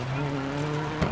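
A strained, droning race car engine in DiRT 4, damaged and struggling to move, with a steady low hum and whine, sounding rough and labored, with a brief burst of noise near the end.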